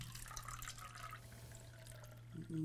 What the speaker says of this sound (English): I want you to pour your water into that right there